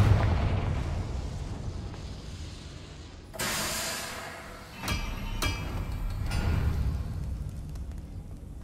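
A Confringo spell explosion in the game Hogwarts Legacy: a sudden loud blast bursts in, followed by a rushing hiss and further bangs, over a rumbling background.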